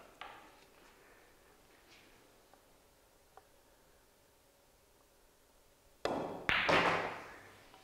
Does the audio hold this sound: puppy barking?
no